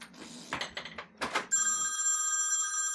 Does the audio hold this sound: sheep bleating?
no